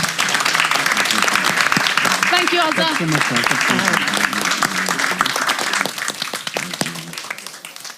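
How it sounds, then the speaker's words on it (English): Audience applause at a talk on challenging gender stereotypes through faith: loud, sustained clapping from a crowd that tapers off toward the end while a speaker voices thanks over it. "can I have a massive round of applause for being part of today?"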